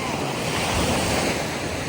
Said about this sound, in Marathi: सर्वात मोठी लाट आली आहे बघा.